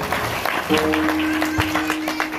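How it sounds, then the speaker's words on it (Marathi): An audience at a kirtan bursts into applause, sharp claps rising over a sustained droning tone and a low murmur of voices. "सगळ्यांसाठी एकदा जोरदार टाळ्या वाजवा"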